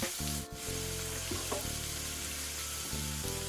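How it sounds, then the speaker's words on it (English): Bacon sizzles loudly in a pan as it fries until crispy, a dense, continuous crackling hiss heard up close, with no voices. "We want this bacon to get nice and crispy"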